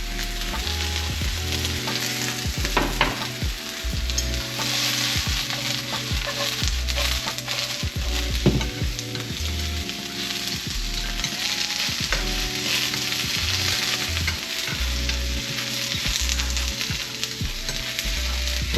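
Mushrooms stir-frying in an oiled pan, a steady loud sizzle with repeated scraping and tossing clatters throughout, no voices.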